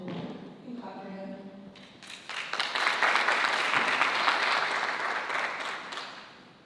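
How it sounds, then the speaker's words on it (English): Applause from the audience at a community event on reducing recidivism, rising after a few seconds of talk, then sustained, loud clapping that tapers off at the end. "You can clap for him."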